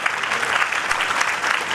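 A crowd applauds loudly and continuously throughout at the inauguration of a flight at Keshod airport, its dense clapping spread evenly with no break.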